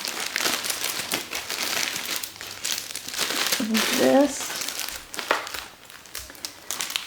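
Halloween tissue paper crinkles and rustles in close, irregular bursts of crackling while a person talks over it.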